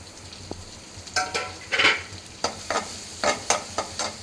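Onion and cumin fry in melted butter in a pan as a spoon stirs repeatedly, giving a run of scraping strokes over a low sizzle, close and fairly loud.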